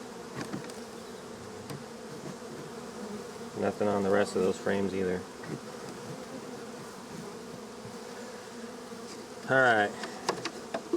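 Honey bees in an opened, queenless hive buzz steadily and close throughout, a dense continuous drone, while someone talks briefly over it partway through.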